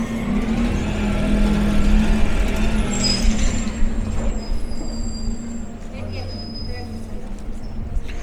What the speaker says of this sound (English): wait for the bus to go.